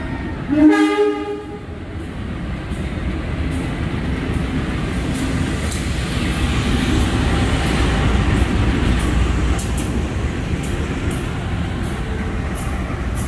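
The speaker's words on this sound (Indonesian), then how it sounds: "Kita tunggu sampai kereta itu sampai di sini" A train horn blares briefly, then an Indonesian commuter train rumbles steadily closer into a station with a continuous rolling roar and occasional clicks of the wheels on the rails.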